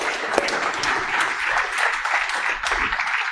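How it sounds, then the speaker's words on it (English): Audience at an entrepreneurs' gathering claps for newly arrived attendees, a steady dense wash of hand claps filling the room throughout, fairly close and even in loudness. "So give guys round of applause for everyone who came here"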